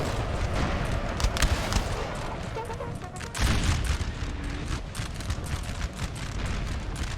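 Artillery booms roll continuously through a large Napoleonic Total War 3 battle, with low rumbling blasts, scattered musket crackle and one heavier thump mid-way, the whole battlefield a dense distant roar.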